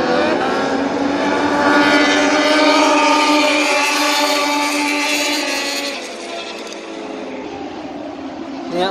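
Moto3 racing motorcycle with a three-cylinder engine accelerating out of a corner onto the straight at Sepang Circuit, heard close at trackside as a loud, sustained high-pitched wail that fades slightly as it passes.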